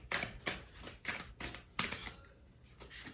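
Oracle cards being shuffled for a tarot reading, a series of quick riffling bursts repeated at a steady pace, close and fairly soft with no talking.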